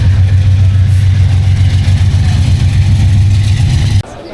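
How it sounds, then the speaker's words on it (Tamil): A train engine in Mozambique runs with a loud, steady low rumble and hum that cuts off abruptly near the end. "இன்ஜின் போகுதுங்க"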